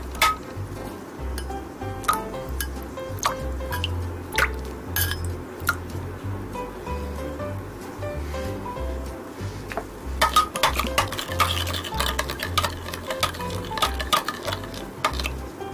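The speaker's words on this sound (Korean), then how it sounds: "다진 청양고추를 넣고 물 4큰술을 넣어서 섞어주세요." Tofu steak mixture with chopped cheongyang chili and a few spoonfuls of water is mixed in a bowl, giving repeated soft squishy stirs punctuated by light clinks of utensil against dish, steady and close throughout.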